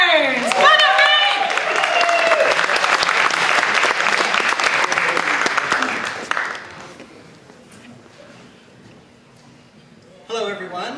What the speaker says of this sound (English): So let's give a big round of applause to Ray Burns!